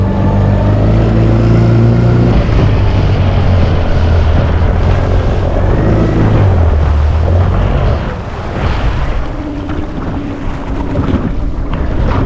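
Motorboat heading out on the Breede River at Infanta, its engine droning loudly and steadily with wind buffeting the microphone, easing slightly near the end.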